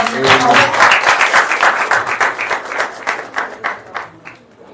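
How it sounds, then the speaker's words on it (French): A crowd applauds warmly, clapping briskly at first and gradually thinning out toward the end. "Applaudissez pour ça."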